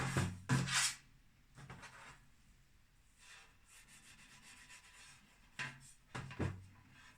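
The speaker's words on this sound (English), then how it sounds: "And I'm just going to rub." Paper is rubbed over a craft card in short close scratchy strokes, two bursts at the start and two near the end with quiet handling between, no talk.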